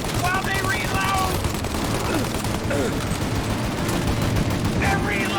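Gunfire in a shootout in Mafia: Definitive Edition, heavy, sustained bursts of automatic fire with shouting voices over the top, loud and dense throughout.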